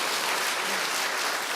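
Applause from a church audience fills the space, a dense, steady clapping that holds evenly throughout with no talk over it.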